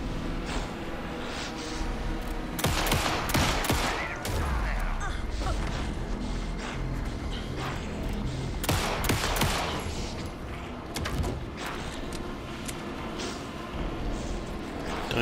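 Video game gunfire in Alan Wake 2: sustained, rapid bursts of shots with heavier volleys clustered in two stretches, over a continuous rumbling, clanking backdrop of mechanical noise and crashes.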